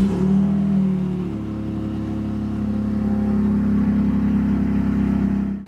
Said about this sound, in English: So I'm gonna go start the engine real quick